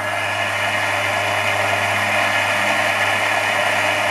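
A DC machine runs as a motor on a test bench while load torque is added, giving a steady, loud mechanical hum and whir with constant tonal drone and no speech.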